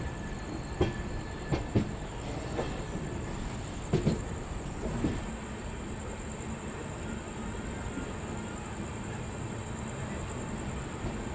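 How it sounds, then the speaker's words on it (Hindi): Goods train rolling past on Indian rail tracks near Delhi, a steady rumbling wash with scattered clanks and wheel knocks, close and continuous with no talk. "गुड्स ट्रेन है ये। हाँ, ये ट्रेन चली गई है।"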